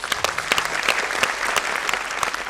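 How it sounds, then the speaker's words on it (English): A crowd at a school annual day event applauds with dense, steady clapping that holds at an even level throughout. "Let's give a huge round of applause for us."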